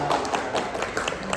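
A group practising a focus game with single and double claps, clapping together in a loud, irregular run of sharp hand claps close by.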